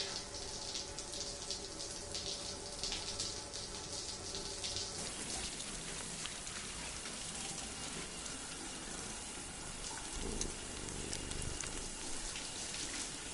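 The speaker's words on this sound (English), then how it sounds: "Gonna take a shower real quick." A shower in the video game Death Stranding runs steadily as a faint, continuous hiss of spraying water, unchanging throughout.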